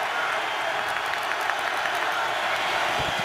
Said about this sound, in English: Crowd urging on the Tampa Bay defense